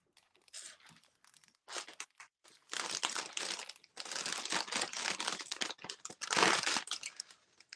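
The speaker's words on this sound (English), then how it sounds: "Sorry about the crinkling." Plastic crinkles close and loud in several separate bursts of crisp crackling, with short quiet gaps between them.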